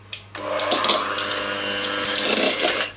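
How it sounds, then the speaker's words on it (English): An electric mixer whirs steadily as it creams butter, sugar and vanilla together, a continuous buzzing motor hum lasting nearly three seconds after a brief click at the start, close and alone. "The butter, the sugar, and the vanilla, we're going to cream it together with an electric mixer."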